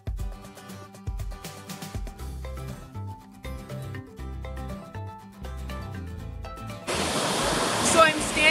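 Wastewater at a treatment plant spills over clarifier weirs with a steady broad rushing wash under music, swelling louder and nearer toward the end.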